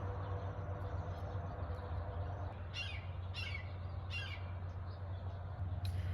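Several bird calls ring out in short bursts over a steady low hum, fairly distant, with a brief chirp near the end.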